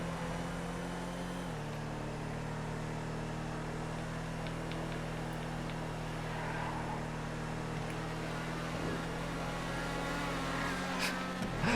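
Race cars in a GTA FiveM race, including open-wheel Formula cars, drone steadily with a loud, continuous engine hum that shifts pitch once early on, a rival car closing in from behind.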